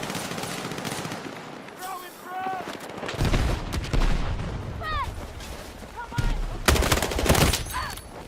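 Machine gun fire in a video game: bursts of rapid gunfire and heavy booms mixed with whistling game effects, loud and close, with a voice talking over parts of the action.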